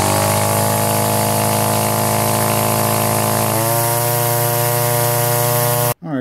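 An Echo chainsaw engine runs steadily outside while warming up, running roughly and not at its best, a loud close buzzing drone whose pitch shifts partway through before the sound cuts off abruptly near the end.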